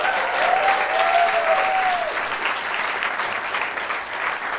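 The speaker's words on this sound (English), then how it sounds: "Give a round of applause for Josh." Audience at a live podcast stage show breaks into sustained, even applause, a full room of clapping that holds steady for several seconds.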